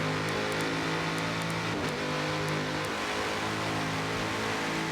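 A Lamborghini race car engine in a touring-car racing video game, loud and continuous, holding a steady high drone with a brief dip and shift near the middle, close and alone.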